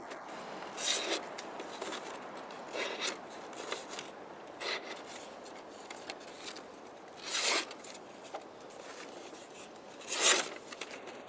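A Forge 7 Small Fang knife slicing paper, heard as several separate short, raspy swishing cuts spaced a few seconds apart, close and fairly quiet, with soft rustling of the paper between strokes.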